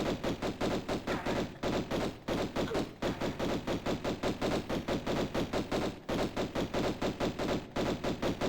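Rapid pistol gunfire from Tomb Raider Remastered video game, a long unbroken string of loud, evenly spaced shots at several per second, steady and close, with no talk over it.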